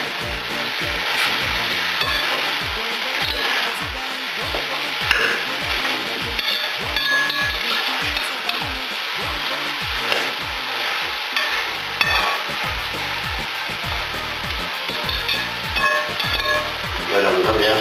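Shredded cabbage for borscht fries in a pan, a steady close sizzle broken by quick rhythmic scrapes and knocks of a stirring utensil all the way through, with no talk.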